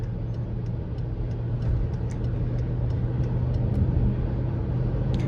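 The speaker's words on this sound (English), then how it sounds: "So we're cruising 60 here on the freeway." A BMW X5M cruising at 60 on the freeway under 2,000 rpm, its low steady engine and road rumble filling the cabin continuously with no talking.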